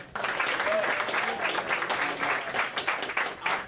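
A crowd at a Great Lakes Brewing Company Christmas Ale first-pour event in Cleveland gives a steady round of applause, with some voices mixed in.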